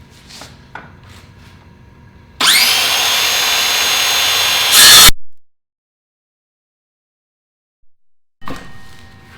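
A power saw fitted with a coarse-tooth blade rips through wood in one loud, steady cut of about two and a half seconds, then stops abruptly. Quiet handling noises come before and after the cut.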